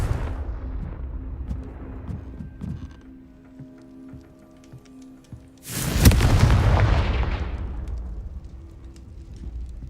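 In the Hogwarts Legacy video game, a Confringo fire spell goes off as one sudden, loud, booming explosion that rumbles and fades over several seconds, after a stretch of quieter game ambience and small thuds.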